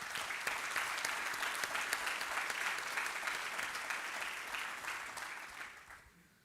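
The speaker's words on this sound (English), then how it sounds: "Let's give them a round of applause." Sustained applause from the audience at an annual business meeting of the TECA organization, dense and steady, fading out near the end.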